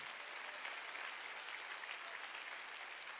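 A congregation applauds during a church worship service, steady, dense clapping throughout, fairly faint.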